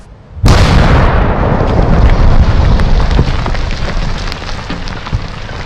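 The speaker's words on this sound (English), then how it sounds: "We just sit and wait for the explosion, not knowing when it will be." A landmine or unexploded ordnance goes off during demining: one sudden, very loud blast followed by a long rumbling decay that fades slowly over several seconds, with no voices.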